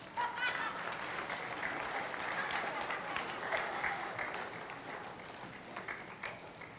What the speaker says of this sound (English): I usually do this till the crowd bursts into applause.